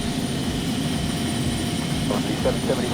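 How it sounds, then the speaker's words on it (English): An Airbus A380 in the X-Plane 11 flight simulator gives a steady, loud engine roar that runs without a break. A voice talks over it at times. "There's a 380 about to take off there"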